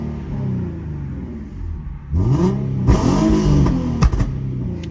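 Infiniti Q50 with a 3.7L V6, no catalytic converters and Invidia mufflers, revved once from idle with a rising engine roar and a few sharp exhaust pops and crackles as it settles, heard close from inside the car.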